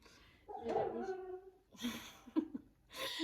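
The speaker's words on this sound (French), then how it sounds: "J'ai mon chien qui rêve, je suis désolée." A sleeping dog whimpers and yips softly while dreaming, with several short, faint whines close to the listener in a quiet room.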